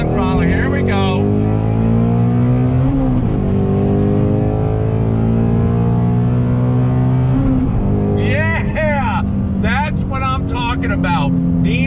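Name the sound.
2019 Ford Shelby GT350 accelerating on throttle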